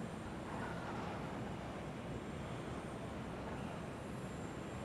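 An aircraft passes over in Call of Duty: Modern Warfare 3 as a steady, loud, broadband engine roar and whoosh that holds for the whole stretch, with no talk heard.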